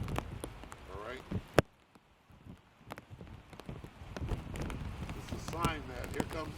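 Rain at a camp patters and drips onto surfaces in irregular taps, with one sharp knock and someone talking intermittently over it.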